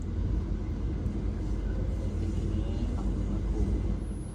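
Joglosemarkerto economy-class train running through Central Java, heard as a continuous low rumble and hum from inside the moving carriage, steady and fairly loud throughout without any speech.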